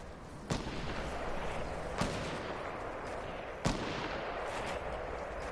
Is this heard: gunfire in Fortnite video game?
yes